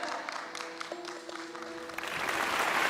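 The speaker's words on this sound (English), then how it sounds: "let's give Abir a big round of applause" Applause for a kindergarten quiz contestant, a broad wash of clapping from a small audience that swells toward the end, with faint tonal sounds beneath.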